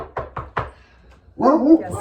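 Knuckles rap on a tabletop imitating a door knock: three quick, sharp knocks close by, then a pause before a burst of louder clatter and rustle.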